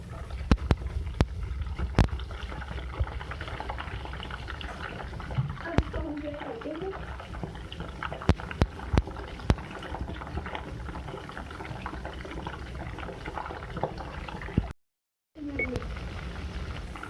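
Chicken leg pieces frying in oil in a pan, a steady bubbling sizzle with small crackles throughout, someone talking over it, and a short silent break near the end.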